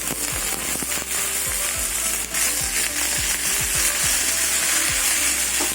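Cauliflower and potato frying in oil with onion and spices, a dense crackling sizzle punctuated by sharp popping bursts throughout, close and fairly loud with no talking.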